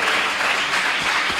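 A church congregation breaks into steady applause, a dense wash of clapping filling the whole short stretch at close range, with no voices rising above it.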